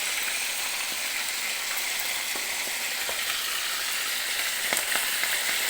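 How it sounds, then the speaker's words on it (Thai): Fish sizzles in hot frying oil, a dense, steady hiss with scattered small pops and crackles that holds evenly from start to finish, close by, with no talking. "เราทำปลาทอดกินกันเนาะ"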